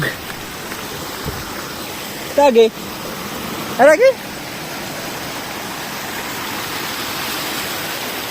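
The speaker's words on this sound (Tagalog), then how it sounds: "Dito na tayo sa ilog" A river flowing steadily in warm morning heat, a broad continuous wash of water heard throughout, with a voice briefly calling out twice over it.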